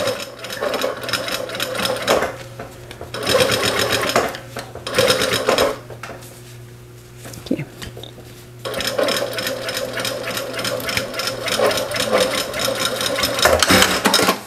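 A sewing machine stitches faux leather for a wallet in bursts of rapid mechanical whirring, stopping and restarting several times, with brief clinks of handling between runs.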